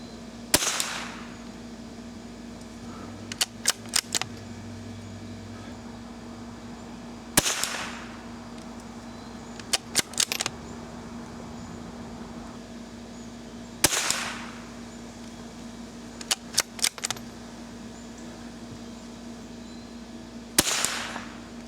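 Five rifle shots fire Eley Club standard-velocity rimfire rounds on an outdoor range, each a sharp, fairly loud crack spaced several seconds apart, with faint handling clicks between shots.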